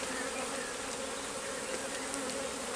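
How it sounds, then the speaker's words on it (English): A swarm of bees being brushed off a tree trunk into a box, giving a dense, steady buzzing drone close by that holds without a break. "There's quite a lot of bees"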